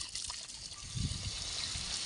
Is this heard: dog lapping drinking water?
yes